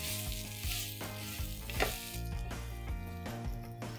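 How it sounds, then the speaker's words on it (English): Drumsticks sautéing in a masala in a hot pan give a steady close sizzle with scraping stirs throughout, and no talking. "Let's add in the drumsticks now. Sauté this for a few seconds."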